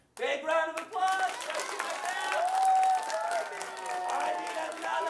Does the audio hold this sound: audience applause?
yes